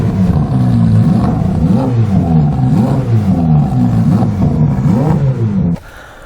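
Novitec Ferrari F8 N-Largo with a full race exhaust system and cat replacement pipes, revving loudly and close in repeated rising and falling pulses before cutting off abruptly near the end.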